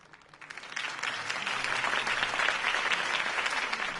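A crowd breaks into applause that swells quickly and holds strong, a dense, continuous patter of many hands clapping.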